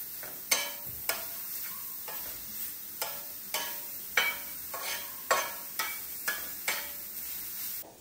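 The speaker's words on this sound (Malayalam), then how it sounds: "അപ്പൊ ബീട്രൂട്ടിനെ നല്ലോണം മുരിഞ്ഞ് വരുന്ന പോലെ വറുത്തെടുക്കണം കേട്ടോ" Beetroot roasts in oil in a pan, a faint low sizzle punctuated by about a dozen sharp spatula scrapes and taps at irregular intervals, close by, with no talking.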